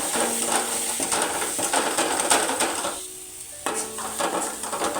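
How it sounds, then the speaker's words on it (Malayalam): Coriander, fenugreek and turmeric powders sauté in a pan for rasam, a continuous close sizzle with repeated scraping and clinking of a spoon against the metal vessel. "2 സ്പൂൺ മല്ലിപ്പൊടിയും കുറച്ച് ഉലുവാപ്പൊടി കുറച്ച് മഞ്ഞൾപ്പൊടിയും ചേർത്ത് വഴറ്റുക."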